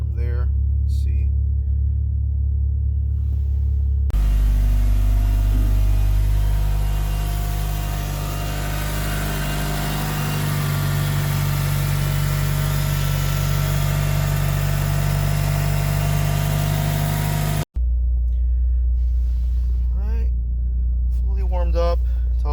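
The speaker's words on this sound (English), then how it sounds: "Engine's still warming up, so once that's properly warmed up," A 2004 Mitsubishi Lancer Evolution VIII engine idles while warming up, a loud, steady rumble that runs for most of the stretch, with a person talking before it starts and after it drops away.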